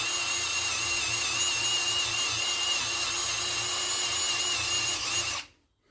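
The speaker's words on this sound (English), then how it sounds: "if you get a wire wheel, it does just fit, straighten it" A wire wheel on a power tool scrubbing rust off a Mazda MX-5 NC front wheel hub, a steady high whirring grind held for about five seconds before stopping abruptly.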